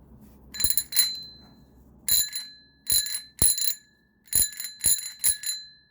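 A bicycle bell rings in a series of bright, close metallic dings, some single and some in quick pairs, with short pauses between them.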